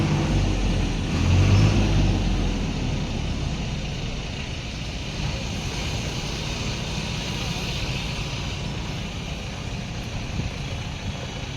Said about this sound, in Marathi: आपली आयसर पण आली क्रॉसिंग करायची ती बघा आली